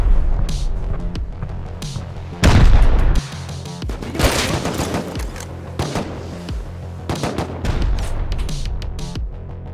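Rocket blasts and heavy gunfire during a base raid in the game Rust, with a loud booming impact and repeated sharp bursts and cracks close by across the clip.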